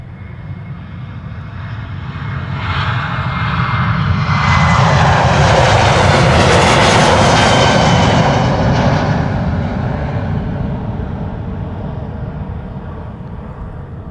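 A Boeing 737-700 jet airliner at Schiphol Airport rumbles past with a loud engine roar that rises to a strong peak midway, then slowly recedes, continuous and close with no voices.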